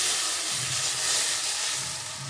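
Strained mustard water hitting a hot pan of softened tomatoes, a loud continuous steamy hiss and sizzle that holds steady close up and eases slightly toward the end, with no talking.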